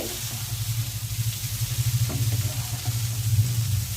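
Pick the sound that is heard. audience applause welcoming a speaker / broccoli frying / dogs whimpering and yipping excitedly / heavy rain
broccoli frying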